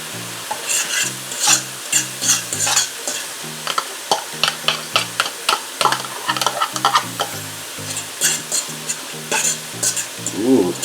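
Paprika being stirred into frying beef filling for Jamaican patties, with repeated scraping strokes from a utensil over a constant sizzle. Quiet music runs underneath the whole time.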